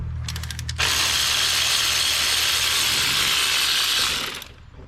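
Ratchet wrench working loose an alternator bolt on a Dodge Dakota, a close, loud run of rapid clicking that starts with a few separate clicks and then goes steady for about three seconds before trailing off.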